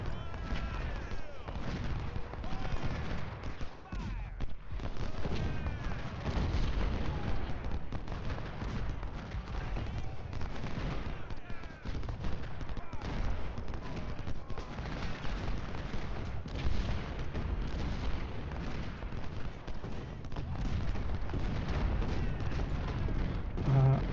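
Musket volleys and artillery booms from the Ultimate General: Civil War game, in the Washington battle finale. Dense, continuous distant gunfire rumbles with repeated thuds and crackles throughout.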